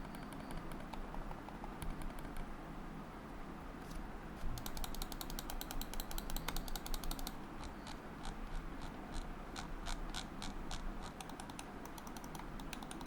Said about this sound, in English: The clicks are a little louder than I expected